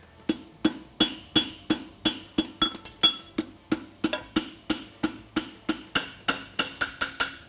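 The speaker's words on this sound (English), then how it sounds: "take a set hammer and lean it against the face of my heel cock and get that to where I get it pushed down in" A blacksmith strikes a set hammer against the heel of a whip-across bar horseshoe on an anvil at a world championship forging contest, giving a steady run of sharp, ringing metallic blows about three per second, close and loud, with no talking.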